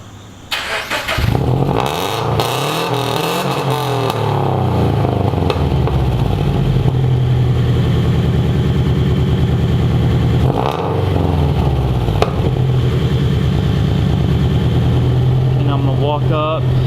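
A Subaru BRZ engine with a UEL header starts up, revs briefly, then settles into a loud, steady idle that runs on without pause.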